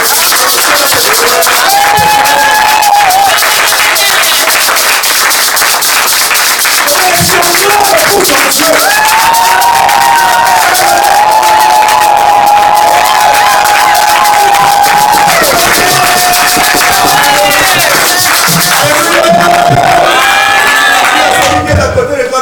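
A church congregation cheers and acclaims loudly, a dense roar of shouting voices with clapping and high cries sustained for over twenty seconds, close and continuous.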